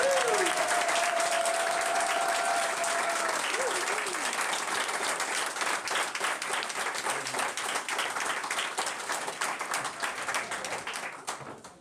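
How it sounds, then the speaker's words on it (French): Guests at a town hall civil wedding ceremony applaud the newly married couple, a dense, sustained burst of clapping that holds strong then gradually thins toward the end, with a brief voice at the start. "Nous pouvons les applaudir."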